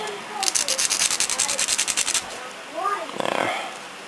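A sanding stick rubbed back and forth on a plastic model car body of a 1969 Mitsubishi Colt Galant GSII, a fast rhythmic run of about fifteen close scratchy strokes, then a few slower scrapes after a pause.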